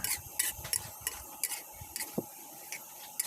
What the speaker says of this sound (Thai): ผัดส่วนผสมทุกอย่างให้เข้ากันอีกรอบค่ะ